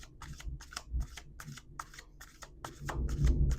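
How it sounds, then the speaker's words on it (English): A tarot card deck being shuffled by hand, a run of quick crisp riffling bursts in a steady rhythm, close and fairly soft, building slightly toward the end. "I just want to do a couple shuffles,"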